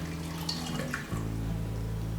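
Water splashes into a pressure cooker holding sprouted green gram, a short pour with a brief gap before a steady stream continues close by.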